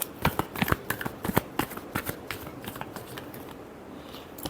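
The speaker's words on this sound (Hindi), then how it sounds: "Last shuffle." Tarot cards being shuffled by hand, a run of quick crisp riffling flicks up close that thins out toward the end, heard on its own with no talk.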